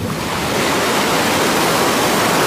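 Sea surf rushes continuously at Alanya, Turkey, a broad steady wash of breaking waves filling the air with no voices.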